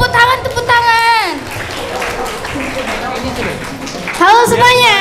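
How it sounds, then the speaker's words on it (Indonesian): Audience applause at a school orientation gathering, a broad wash of clapping heard under a speaker's voice, with talk returning at the end. "Tepuk tangan."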